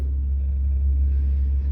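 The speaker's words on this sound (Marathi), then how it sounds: "इकडे गाडी चालूच आहे खाली" A car engine left running downstairs idles in a deep, steady rumble, close and unbroken throughout.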